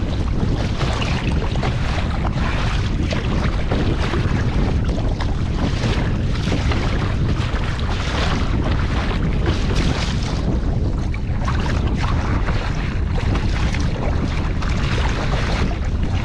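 Heavy wind out on the water while kayaking, a loud continuous roar that buffets the microphone, with the wash of waves underneath and no break throughout.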